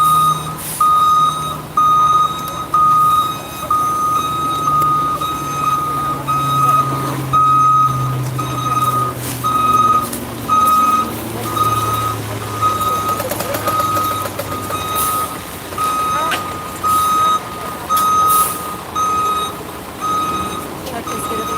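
Steady, evenly spaced reversing beeps from a truck repeat throughout, loud and close, over a low idling engine rumble and street noise.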